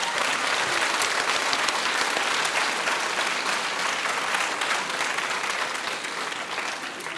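A large audience at a high school students' eloquence contest in Montreuil applauds loudly and steadily, a dense wash of clapping that holds throughout.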